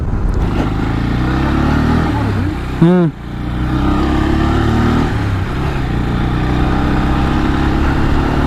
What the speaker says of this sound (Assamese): এতিয়া বাইক চলাব ৰেডিপে